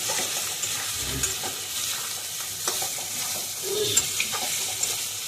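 Pumpkin lentil dumplings (bori) frying in a pan with a continuous close hiss and sizzle, with soft stirring scrapes and a few small pops, and no talking.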